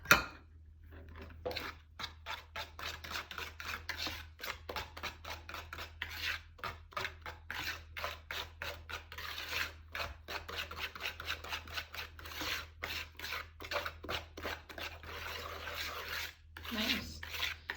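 Steady scraping and rubbing of a utensil through s'mores bar dough as flour is mixed in, a continuous rhythmic rasping close to the microphone with brief pauses and no talking.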